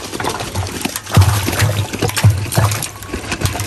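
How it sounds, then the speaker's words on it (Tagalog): Ice being loaded into a water-filled drum during a milkfish harvest at a fish pond, heard as close splashing and watery clunks with a few heavier plops among continuous trickling. "Nilalagay po ni Tito Baron dito sa drum yung mga yelo"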